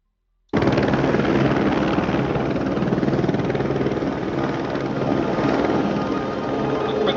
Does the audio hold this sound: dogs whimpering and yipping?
no